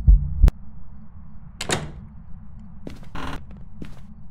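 A door moved by a ghost in the video game Phasmophobia, a few separate creaks and knocks spread across the moment, with a heavy thump at the start and a quiet background.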